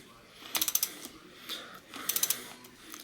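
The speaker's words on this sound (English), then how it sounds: "The bolt pushes the crank arm onto the spindle and presses it on. So I just go ahead and tighten it." Ratcheting clicks from a wrench tightening a bicycle crank arm bolt onto the spindle come in two quick bursts of four or five clicks each, close and fairly quiet, with soft handling noises between.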